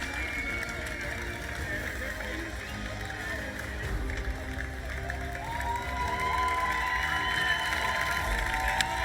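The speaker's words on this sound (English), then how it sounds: "It's great to hear the crowd, isn't it?" Crowd cheering and applauding at the opening ceremony of the FIA Motorsports Games, a continuous roar of voices and clapping heard at a distance, mixed with whistles and a steady background hum.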